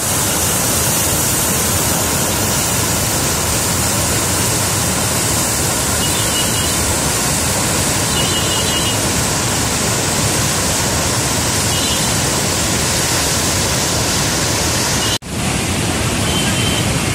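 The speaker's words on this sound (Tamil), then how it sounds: "இப்போ தண்ணி திறந்துருக்காங்க. இது வழியாக போயிட்டுருக்கு." Water released through an open dam sluice gate, heard from above on a windy day: a loud, unbroken roar of rushing water that holds steady throughout.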